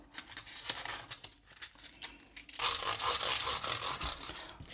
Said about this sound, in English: just up and down the fingerboard using the sandpaper wrapped around your middle finger to make it kind of a cushion tool